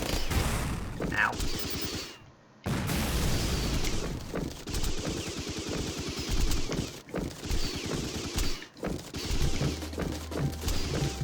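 Submachine gun fire in the video game Rengoku: The Tower of Purgatory, rapid rattling bursts mixed with mechanical clanks and impacts, loud and dense with short gaps of near silence.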